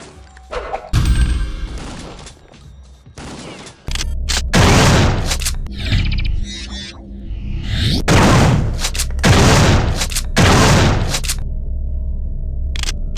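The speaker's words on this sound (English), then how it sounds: "System Shock 2. Not a game known for its gunplay, but its shotgun really isn't much at all." In the game System Shock 2, a shotgun fires in heavy, booming blasts, about five or six spaced shots with crashing tails, loud and close, over a low game background hum and no talking.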